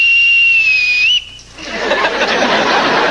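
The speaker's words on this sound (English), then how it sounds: "Where'd you get a bosun's whistle?" A bosun's whistle sounds a steady high shrill tone for about a second, rising slightly at the end before cutting off, followed by a burst of broadband noise like laughter or movement.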